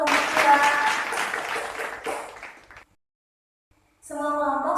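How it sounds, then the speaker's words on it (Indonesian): A fourth-grade classroom applauds group 2 after their discussion reading, a dense burst of many small hands clapping for about three seconds that fades into silence, before a teacher's voice speaks at the end. "Boleh tepuk tangan dulu buat kelompok 2."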